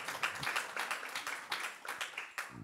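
Faint, steady applause from an audience at a film festival panel talk in Munich, a dense patter of many hands sustained throughout and heard from a distance.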